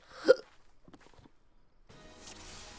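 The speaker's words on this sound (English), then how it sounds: "Of course I have hiccups." A single sharp hiccup bursts out at the start, close and clear, followed by faint shuffling and soft background noise.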